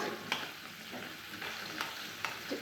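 Fish frying in oil in a home kitchen pan, a steady close sizzle with a few brief clatters of a utensil, no voices.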